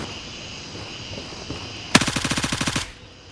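Automatic gunfire in the video game Gray Zone Warfare: a sharp opening shot followed by a rapid, evenly spaced burst of about a dozen loud rounds lasting under a second, over a low ambient background.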